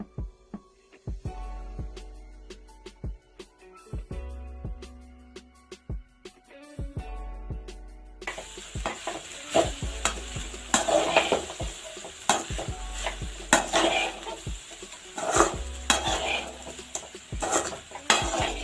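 Cooled cooked rice being stirred into fried onions in a pan for onion rice, with a spoon scraping and clinking against the metal repeatedly and a soft sizzle that grows louder and denser partway through, no voices.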